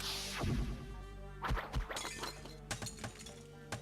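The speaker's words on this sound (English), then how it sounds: "They say plastic, but that sounds like glass." Glass shattering in Danganronpa 2, several sharp crashes and clinking breaks spread across a few seconds over a steady game music bed.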